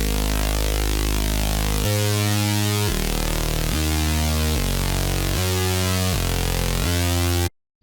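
Gritty trap bass preset in Serum, sounding as a dense, buzzy, harmonically rich synth bass that steps through several sustained notes in an even rhythm before cutting off abruptly, with no voices.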